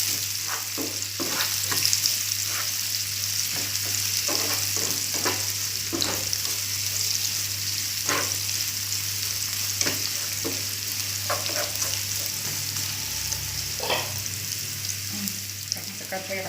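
Garlic and chili sizzle steadily in hot oil for a Balinese stir-fried vegetable dish, with repeated scraping and stirring clicks from a utensil in the pan, close and continuous, with no one talking.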